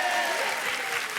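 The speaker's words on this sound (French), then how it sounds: "On vous applaudit" Studio audience applause on the French TV dating show Les Z'amours, a brief, steady wash of many hands clapping together, fairly loud and close.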